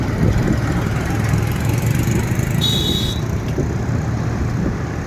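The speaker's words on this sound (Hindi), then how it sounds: "यहाँ देखिए ट्रैक्टर पार हो रहा है" A tractor drives past on a dusty road near a coal-transport route in Basantpur, India, its loud, steady engine rumble and road noise running unbroken through the whole stretch.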